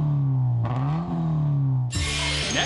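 A Toyota 86 fitted with a tuned aftermarket muffler revs hard close by. The exhaust drone rises and dips with the throttle, then a sharp crackling burst of high-revving noise follows near the end.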